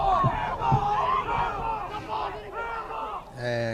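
Spectators at a boys' varsity high school soccer game yell and whoop in loose bursts, voices rising and falling across the field, with a few shouted calls standing out near the end.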